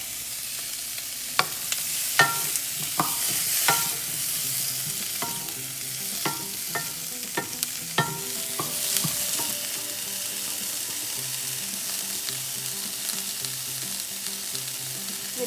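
Garlic and tomatoes sizzle in a pan for tomato soup as a spoon stirs them with sharp, irregular scrapes and knocks, close up, with a steady frying hiss underneath and no talking.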